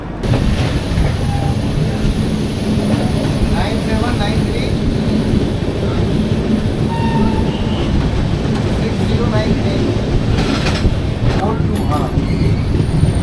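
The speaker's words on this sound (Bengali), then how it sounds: "বন্ধুরা আমাদের যে ট্রেনটা সেটা চিত্তরঞ্জন ছেড়ে বেরিয়ে যাচ্ছে" A passenger train pulling out of Chittaranjan station rumbles and clatters steadily throughout, heard from on board as a dense, continuous roar of wheels and carriages.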